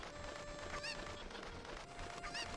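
A cucco squawks twice in The Legend of Zelda: Ocarina of Time, two short honking clucks over a busy, noisy game background with a steady tone.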